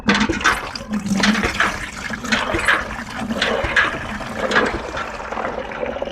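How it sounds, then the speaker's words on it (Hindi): Water pours into a bucket as it is refilled for rinsing cloth, a loud, continuous gushing and splashing that carries on steadily for several seconds with no talk. "हमने दोबारा पानी भर लिया"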